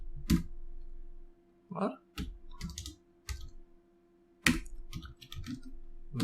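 Computer keys clicking in scattered, quick taps as Emmet abbreviations for HTML and CSS are typed, heard beneath a person talking.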